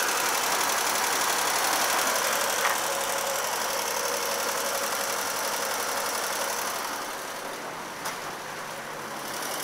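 A Triumph Herald 13/60 engine runs steadily and fairly loud close by on a busy street, a continuous broadband rumble with slight knocking that eases a little toward the end.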